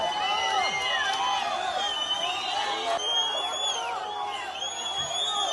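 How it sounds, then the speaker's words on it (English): An outdoor crowd cheers after an Iranian missile attack, with constant overlapping whistles, whoops and ululating cries at steady loudness. "they are cheering"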